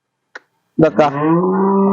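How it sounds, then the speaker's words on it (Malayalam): A hornless dairy cow on a farm lets out a single close, loud moo that holds steady to the end, following a brief click. "ഇതിപ്പോ മോഴ പശുക്കളാണ് ഇത് മോഴയാണ്"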